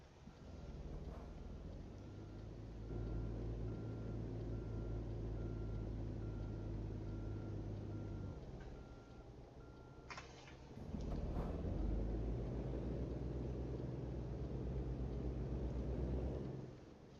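A truck in American Truck Simulator runs with a steady low engine drone, surging louder twice and easing down between, with a brief higher chirp near the middle; no voices.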